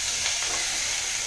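Ingredients sizzling steadily in hot oil as they are sautéed for chutney, a constant bright hiss that stays loud and even throughout with no voices.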